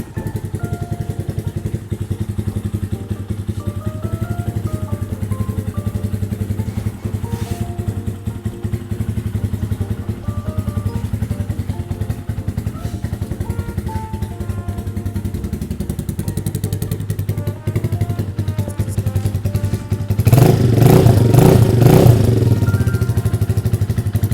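A customised 2016 GPX Legend 200 motorcycle runs steadily at idle with a continuous exhaust drone, close by, and briefly rises in a louder rev near the end, with no talking.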